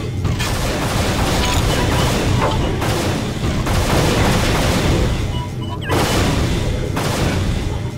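Weapon fire slamming into a wall in the video game Unreal, a continuous loud barrage of booming, crashing blasts with brief dips, heard close with dense rumbling and no voices.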